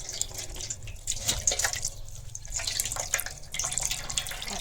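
Water is poured over grated palm pulp to rinse it, making an uneven trickling and splashing with drips and wet handling sounds at close range, without speech.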